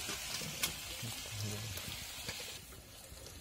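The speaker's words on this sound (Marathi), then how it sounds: "आपला लसूण पण चांगला परतलेला आहे" Garlic frying in hot oil with mustard seeds, cumin and turmeric, a steady close sizzle with small crackles and pops, while a voice talks over it.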